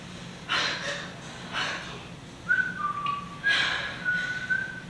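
A man whistles short melodic phrases during a staged play reading, a few rising and sustained notes alongside soft breaths and rustling, fairly close in a quiet room.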